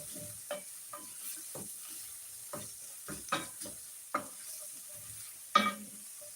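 Onions sautéing in a pan for home comfort food, a steady soft sizzle broken by repeated stirring scrapes and clatters, close and moderately loud, no talking.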